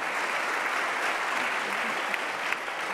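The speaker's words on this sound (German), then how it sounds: "auch Applaus bitte" An audience at the Digital-Gipfel 2017 conference applauds steadily and evenly for a few seconds, a dense wash of clapping heard from within the hall.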